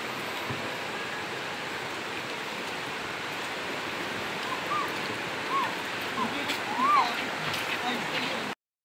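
Steady broadband rush of a clear river flowing toward Taytay Falls in Majayjay, Laguna, filling the whole span at even loudness, with a few faint chirps rising above it near the end.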